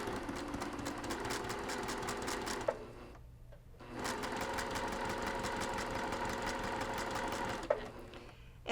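A sewing machine stitches a flannel mug rug with a short stitch length, a soft, quiet rapid chatter in two long runs separated by a brief pause.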